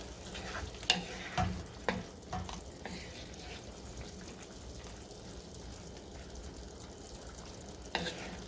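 Mustard paste sizzling in a pan with flat beans and potatoes, stirred in a few scraping strokes early on and again near the end over a steady soft fry.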